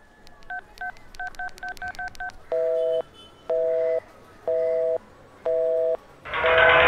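A telephone number is dialed, with a quick run of about a dozen short, evenly spaced keypad tones, then four longer, steady ringback beeps with pauses between them, ending in a burst of line noise. All of it is clear and close, with no speech.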